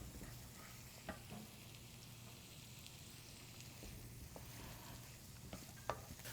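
Vegetables for a southwest tofu scramble sautéing in a hot pan, a steady soft sizzle with faint occasional stirring clicks, even and unbroken throughout.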